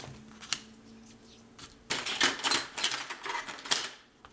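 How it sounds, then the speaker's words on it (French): A Xiron glue eraser rubs excess glue off a paper page, first a few soft scuffs, then a dense burst of quick, scratchy rubbing strokes up close. "J'enlève l'excédent de colle ici avec la petite éponge, pas une éponge, c'est une efface à colle Xiron, ça s'appelle."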